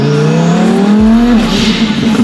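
A twin-turbo Lamborghini Huracán Performante accelerating hard at full boost, loud and close, with the engine note climbing sharply, a quick gear change partway through, then revving upward again.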